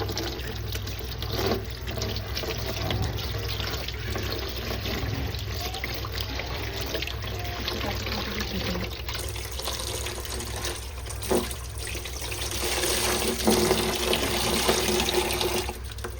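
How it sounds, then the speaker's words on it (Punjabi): Tap water runs steadily into a sink while an old cloth mop is soaked under it, a continuous close splashing and trickling with no one talking. "ਆਪਾਂ ਲੈ ਲਿਆ ਇਹ ਪੋਚਾ ਤੇ ਇਹਨੂੰ ਆਪਾਂ ਕਰਾਂਗੇ ਚੰਗੀ ਤਰ੍ਹਾਂ ਗਿੱਲਾ ਦੇਖੋ"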